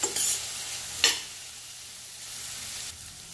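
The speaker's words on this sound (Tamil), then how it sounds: "வெங்காயம் நல்லா வதங்கி வருது." Onions sautéing in a pan for egg bhurji: a gentle, fairly quiet sizzle, broken near the start by a couple of louder scraping bursts of stirring, then a softer, steady hiss.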